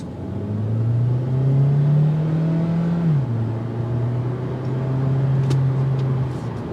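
A 2023 Hyundai Elantra Limited Hybrid car accelerates from inside the cabin, its steady engine drone rising in pitch, briefly dropping as it shifts, then holding level, loud and alone.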